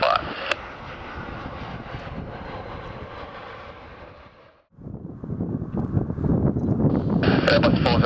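An Airbus A350 XWB comes in to land at Helsinki Airport, its engine roar steady and broad. A brief drop near the middle is followed by louder, rougher noise that could be touchdown and rollout, with wind buffeting the microphone.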